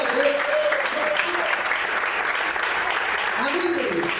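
An evening church service congregation breaks into sustained applause in praise, thick crowd clapping filling the room while a voice calls out faintly underneath.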